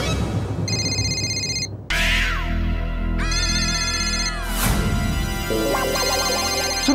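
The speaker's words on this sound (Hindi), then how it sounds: "मेरा फोन बज रहा है" A mobile phone plays an electronic ringtone, a series of bright repeating melodic tones and warbles, loud and close with no voices.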